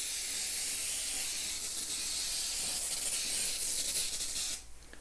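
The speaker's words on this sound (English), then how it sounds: "And then with my spray," Cooking spray hisses from an aerosol can over mini French crullers, a steady close broadband spray lasting about four and a half seconds before cutting off abruptly.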